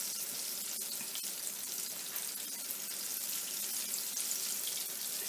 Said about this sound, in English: I'm going to continue frying